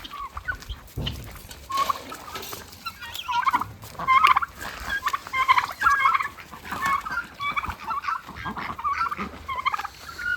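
Farm ducks quacking in short, repeated bursts at close range on a farmland plot, a steady chorus of calls with little else around.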